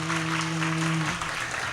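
Audience at a school annual day function clapping together in a steady, dense wash of applause, with a sustained musical tone running underneath for the first second.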